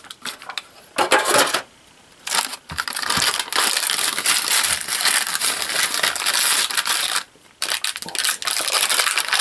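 Knife slicing through a log of homemade cold process soap into bars, a run of dense crisp cutting and scraping strokes up close, with short quiet pauses between cuts.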